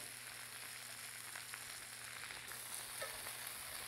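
Cherry tomatoes frying in a pan alongside lamb chops, a low, steady sizzle and crackle with scattered small pops and a faint hum underneath, no voices.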